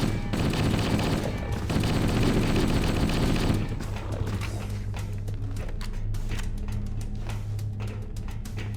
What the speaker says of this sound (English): And then just clean these guys up with AR, backpack reloading, and the plasma rifle.